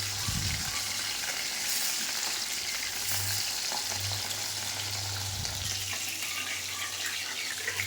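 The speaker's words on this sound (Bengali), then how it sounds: "এক এক করে মাছগুলো এপিট ওপিট করে ভেজে নেব।" Bata fish sizzling as they fry in hot mustard oil in a kadai, a steady dense crackle filling the whole stretch up close, with no one speaking.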